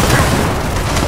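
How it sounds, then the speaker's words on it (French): A grenade blast in Gears of War 4, a loud, broadband boom that fills the short moment with heavy rumble and debris-like crackle. "Attention, grenade."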